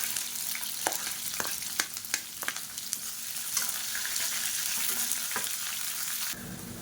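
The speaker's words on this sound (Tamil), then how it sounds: "இப்போ வெங்காயம் நல்லா வதங்கிட்டு இருக்கு" Sliced onions frying in hot oil with mustard seeds and green chilies, giving a steady close sizzle broken by occasional crackles and stirring scrapes.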